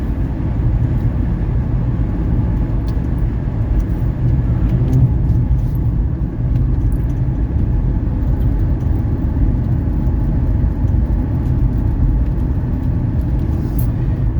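A 1979 Mercedes 300SD on a test drive cruises with a steady low drone of engine and road noise from inside the car, constant and fairly loud with no talking.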